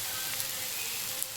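Potatoes frying in a pan with salt, ginger, garlic and turmeric, making a steady, close sizzle with a soft crackle throughout and a couple of faint pops, with no voices.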